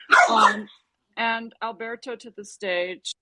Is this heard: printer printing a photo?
no